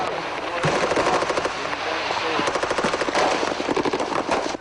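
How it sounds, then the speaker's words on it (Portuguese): Machine gun fire from the November 2004 Fallujah offensive, with soldiers trading shots with rebels on the city's outskirts: loud, dense automatic bursts rattling almost continuously, with brief pauses between volleys. "os soldados atacaram os arredores da cidade, trocando tiros com os rebeldes"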